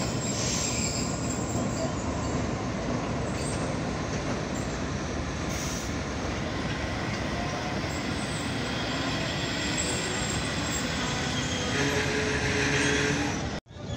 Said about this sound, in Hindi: 26 down one up Khyber mail पहुंच चुकी है